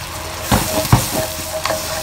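Honey and tomato ketchup sauce with water is stirred in a pan for Chinese honey chicken. A few soft scrapes and knocks of the utensil stand out over a low, steady sizzle, close and moderately loud.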